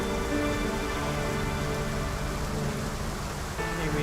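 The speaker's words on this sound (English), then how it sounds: "Looks like rain." Steady rain falls in the video game Trauma Center: Second Opinion, a dense, even hiss of rainfall on surfaces that stays constant and fairly loud throughout, with no other sounds.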